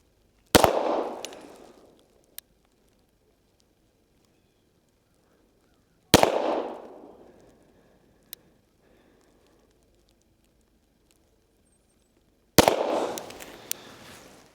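Three loud, sharp pistol shots from a Springfield Prodigy DS Comp fired at bullseye targets about 20 yards downrange, each widely spaced with a quick decaying echo, plus a couple of faint clicks between them.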